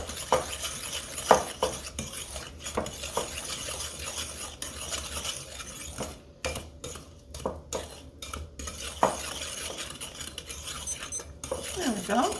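Apple walnut coffee cake batter is blended in a bowl, producing repeated clinking and scraping of a utensil against the bowl in quick, uneven strokes, with a voice talking now and then.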